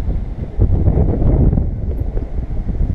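Heavy low rumbling wind buffeting the microphone, loud and gusty throughout.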